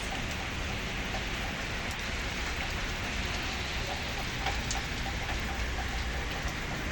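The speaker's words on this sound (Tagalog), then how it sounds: "maulan, madulas." Rain falls steadily on surfaces outdoors, a dense even patter and hiss holding at constant strength throughout with no voices.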